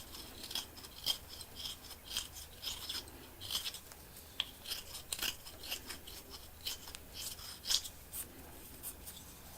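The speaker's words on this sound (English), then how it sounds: "But I'm just going to trim the dowel down." A wooden dowel being trimmed with a hand cutting tool for a beginner depth gauge, giving a series of quiet, irregular snipping and scraping strokes close by, with no talking.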